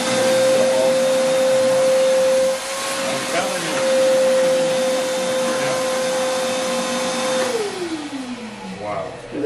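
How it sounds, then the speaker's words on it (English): A vacuum cleaner whines steadily in a CNC workshop, its strong constant tone running for several seconds before winding down in pitch as it is switched off, with some talking in the background. "Get the vacuum"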